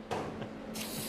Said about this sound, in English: before and after every game, he has to spray the shoes down.